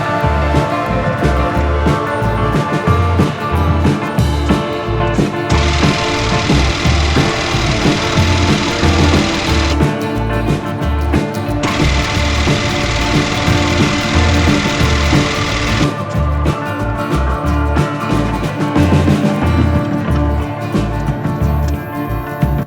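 Porsche 356 replica engine cranking and trying to start, a loud steady rhythmic chugging of the starter turning the engine over, running continuously with bursts of louder mechanical clatter, no voices.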